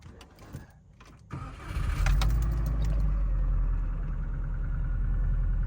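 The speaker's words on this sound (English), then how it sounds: "Nice and smooth idle." A 1996 GC8 Subaru Impreza WRX with a swapped low-compression engine and a 5-speed manual cranks over after a few faint clicks, catches, and settles into a steady, smooth, close idle.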